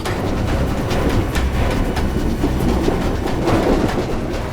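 A running train heard from near the compartments, with a loud, steady rumble and rhythmic rail clatter that carries on without a break.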